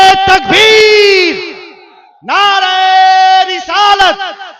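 A large gathering at an Islamic religious address roars back the takbeer slogan in unison, loud sustained chanted shouts in two or three bursts separated by a short gap, close and echoing.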